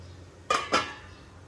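A pot lid lifted off steamed kothimbir vadi gives two quick, close metallic clinks a moment apart, with quiet kitchen stillness around them.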